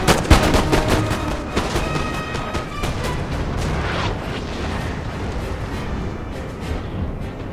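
Continuous crackle of musket volleys in a Napoleonic battle at Ligny in Napoleon: Total War, dense overlapping shots and booms rolling on without a break, loud and close for the whole stretch.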